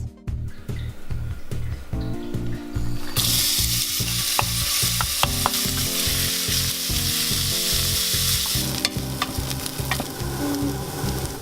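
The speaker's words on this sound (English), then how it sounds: "we're going to put our onion and shallot in and fry it on a medium-high heat until it becomes nice and translucent and slightly brown" Onion and shallot fry in oil in a saucepan over medium-high heat with a loud, continuous sizzle, while a rhythmic background beat runs underneath and occasional stirring clicks cut through.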